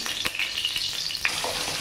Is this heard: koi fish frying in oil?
yes